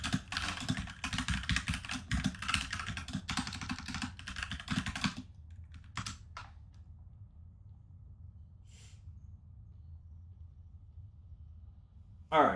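Rapid typing on a computer keyboard during a game session, a dense run of close clicks for about five seconds, then a few isolated keystrokes and breaths in near silence.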